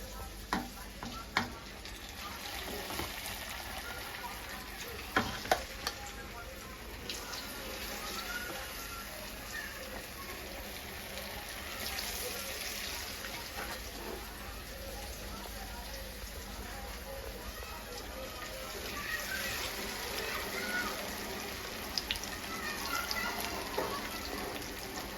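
Chicken pakodi frying in hot oil, a steady close sizzle running the whole time with some stirring clatter and a voice talking over it.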